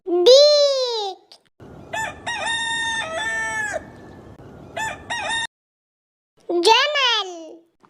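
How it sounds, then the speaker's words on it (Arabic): A rooster crows in a children's animal-sounds set: a long loud cock-a-doodle-doo, then a stretch of clucking and repeated short crow-like calls, and a second crow at the end, close and clear. "ديك"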